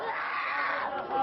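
Mourning crowd in Syria crying and screaming in grief, a dense, continuous wash of many wailing and shouting voices close by, filling the short moment without pause.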